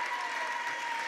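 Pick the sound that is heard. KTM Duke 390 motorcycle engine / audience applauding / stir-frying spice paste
audience applauding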